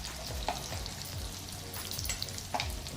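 Ground spices, chilli powder and onion-garlic masala fry in hot oil for a Bombay duck curry. A continuous close crackling sizzle, with a few light stirring scrapes.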